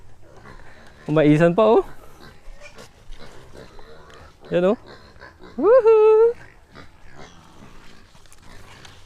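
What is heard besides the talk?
tethered native pigs grunting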